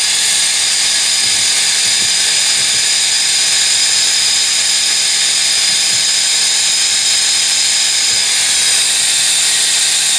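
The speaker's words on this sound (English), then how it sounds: "This compressor, by the way, I don't feel that it's overly loud by any means." An Atomstack air assist compressor for a laser engraver runs continuously, a loud, close, steady hiss and hum with faint clicks underneath.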